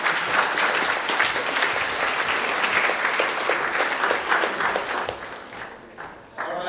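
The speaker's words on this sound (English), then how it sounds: "Let's give a round of applause to Ed Van Wessep." An audience at an economics talk gives a round of applause, steady and full for most of the stretch, dipping briefly near the end before picking up again, with no speech over it.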